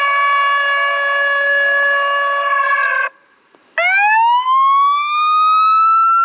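Police-style siren from a Foxpro Patriot electronic wild game caller outdoors at night, a loud steady harmonic wail that cuts off briefly, then restarts with a rising sweep that climbs and holds.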